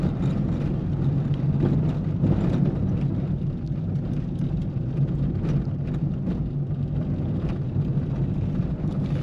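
A VW Gol coasting in neutral on a dirt road in the countryside: a steady low rumble of tires and road noise with a faint engine hum, continuous throughout and without speech.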